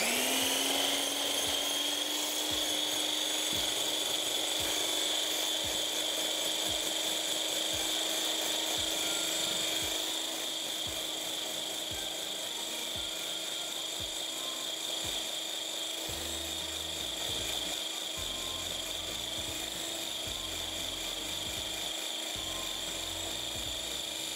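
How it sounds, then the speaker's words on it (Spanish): Electric hand mixer beating coffee cream at maximum speed, a steady, continuous high-pitched whine with a faint rattle of the beaters against the bowl, unbroken throughout and heard alone. "lo que voy a hacer va a ser solamente batir a velocidad máxima, solamente batir"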